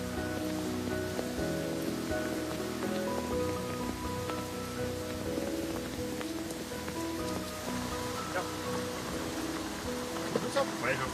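Heavy driving rain falls steadily on a harbour quay in the Baie de Somme, a constant hiss that runs under faint market activity and a few distant voices.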